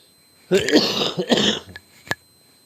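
A few harsh coughing bursts close to the mic, followed by a short throaty sound and a brief click, with no speech.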